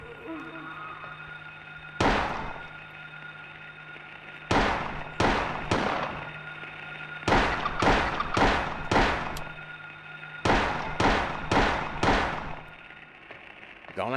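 Gunshots fired at a monster in the Silent Hill video game: about a dozen sharp, loud blasts in quick clusters of two to four, with short pauses between the groups.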